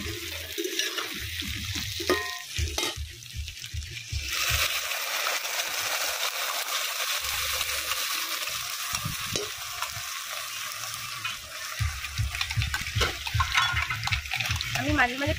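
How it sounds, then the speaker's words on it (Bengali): Onions and potatoes fry together in a pan, giving a steady hiss and sizzle with occasional stirring, heard close under a voice talking. "পেঁয়াজ ভাজার সাথে সাথে আলুটাও ভাজা কি সুন্দর হয়ে গেছে।"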